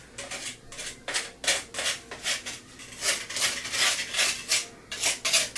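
A putty knife works grout into a bathroom counter, giving repeated rhythmic scraping and rubbing strokes, close and fairly quiet, with no talking.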